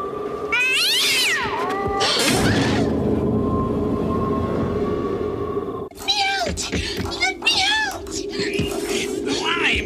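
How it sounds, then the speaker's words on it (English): A cat meows and caterwauls loudly in a long, wavering series, with drawn-out yowls rising and falling at the start and shorter repeated cries later, over a steady low hum and some overlapping voices. "It was a damn cat."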